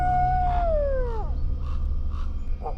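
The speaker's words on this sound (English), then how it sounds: "a red wolf sounds like this." A played recording of a red wolf howling: one long, clear, falling howl that slides down and fades, followed by a few fainter, shorter calls over a low background hum.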